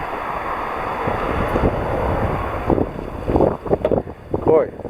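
Steady wind buffets the microphone in a low, continuous rush on a walkway in Deià, Mallorca, then eases as a few broken, nearby noises break through toward the end.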